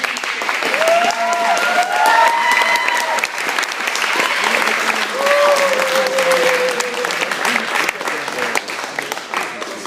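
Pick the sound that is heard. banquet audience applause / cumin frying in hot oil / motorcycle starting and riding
banquet audience applause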